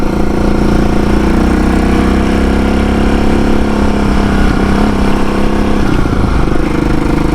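A homebuilt Frankenbike motorcycle engine runs loud and close, holding a steady rough drone for the whole stretch as the rider moves up through the gears.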